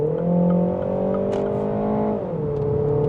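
A Mini Countryman S accelerates hard, its engine note holding a steady, loud drone that rises slightly then eases, heard from inside the car with no talk.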